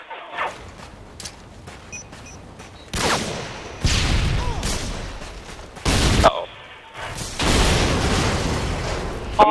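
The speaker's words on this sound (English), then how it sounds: "Things are blowing up again." Explosions and gunfire in the video game Modern Warfare 2, with heavy booms and loud bursts arriving in several waves, mixed with rattling shots and quieter stretches between blasts.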